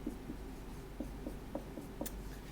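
A marker squeaking and tapping across a board in a classroom, a faint rhythmic series of short strokes about every quarter second, quiet and steady with no talking.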